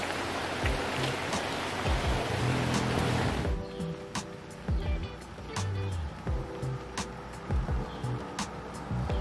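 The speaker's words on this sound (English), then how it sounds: "And in the meantime, the heavens have opened up." Heavy rain pours down on the Mae Hong Son Loop in northern Thailand, a dense steady hiss that eases after a few seconds into scattered heavy drops and splashes, with faint traffic rumbling underneath.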